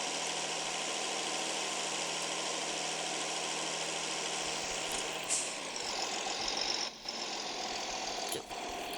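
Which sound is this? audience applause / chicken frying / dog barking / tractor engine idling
tractor engine idling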